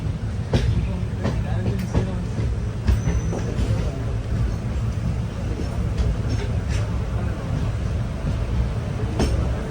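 Train pulling into Ernakulam Town railway station on an Executive Express run from Kannur to Alappuzha, a steady dense rumble with faint wheel squeals and clacks, heard from on board, with brief voices in the background.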